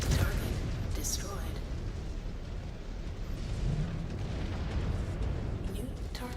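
In the Mechwarrior 5: Clans video game, a destroyed target such as a small APC vehicle explodes in a soft, rumbling boom that rolls on under a faint, busy battle wash.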